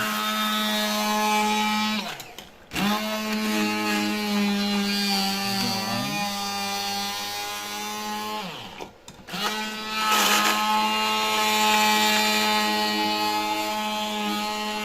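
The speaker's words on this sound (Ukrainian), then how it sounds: "Все залажуємо в блендер" A steady, loud motorized whirring of a blender running continuously on broiler chicken liver pâté, with two brief pauses where the motor dips before resuming.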